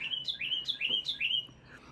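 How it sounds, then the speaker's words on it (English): Small birds at a garden feeder outside give about four quick, bright chirps in a rapid rhythm, faint and a little distant, with no other sound. "Hear the birds."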